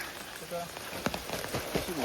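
Rain patters steadily on a surface near a home in a rural Konkan village, a soft hiss broken by scattered drops, while faint voices murmur nearby.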